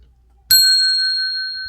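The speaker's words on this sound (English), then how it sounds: "I put that bell down here so I could ring it when I needed something." A metal desk bell is struck once, a single bright ding that rings out clearly and decays slowly in an otherwise quiet room.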